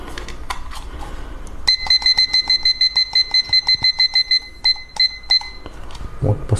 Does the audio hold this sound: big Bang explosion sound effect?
no